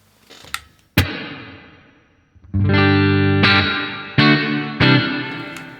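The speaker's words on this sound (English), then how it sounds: "And we've got a hall reverb, which we can add on." Electric guitar through a Lava Studio amp modeler strums several distorted chords with a long, spacious hall reverb tail letting each hit ring and decay between strikes.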